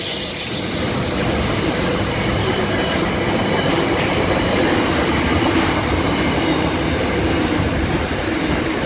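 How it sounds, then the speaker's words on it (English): A freight train hauled by locomotive NR118 rumbles past at Koolewong, New South Wales, continuously and loudly, a steady roar of wheels and wagons with faint clatter, no voices. "Sorry, we have a freight train"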